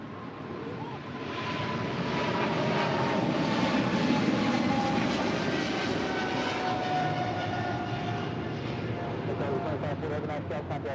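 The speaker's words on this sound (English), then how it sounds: "That is China Southern Cargo Flight 2540 departing to Guangzhou on a 777 freighter." A China Southern Cargo Boeing 777 freighter takes off at a busy airport with a broad, loud jet roar that builds and holds. A voice speaks over it.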